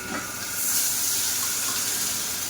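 Liquid is poured into a hot pan of goat blood fry with ginger-garlic paste, setting off a bright hiss that rises after a moment and sizzles on steadily, close and fairly loud.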